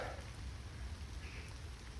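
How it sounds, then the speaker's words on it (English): Steady rain falls on trees along a hiking trail, a dense continuous patter and hiss heard from shelter beneath the branches. "it's been raining non-stop since I left my house and I'm pretty wet"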